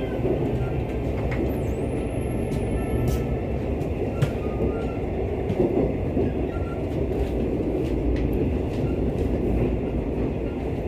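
A Mugunghwa train running on the Jungang Line, heard from a window seat inside the carriage: steady loud rumble and rolling wheel noise with faint rail clicks and a brief high squeal, continuous throughout.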